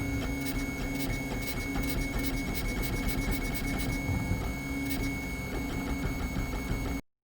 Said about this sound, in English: Send that to the 3D printer and we can put it together.